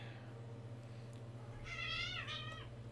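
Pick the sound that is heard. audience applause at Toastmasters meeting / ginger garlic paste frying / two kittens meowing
two kittens meowing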